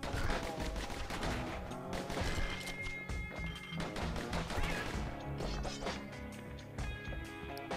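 Gunfire from the Bastion video game, a dense stream of sharp shots and crashing impacts layered over game music, fairly loud and continuous throughout with no talking.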